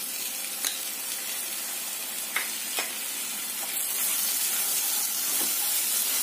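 Cream is added to fried spices for jackfruit kofta, and the pan gives a soft, steady sizzle and hiss with a few faint clinks of stirring.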